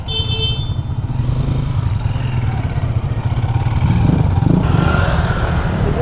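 A group of motorcycles, including a Honda PCX 160 scooter, rides off on a road in Laguna, with steady loud engine drone and clatter that swells as the bikes pull away.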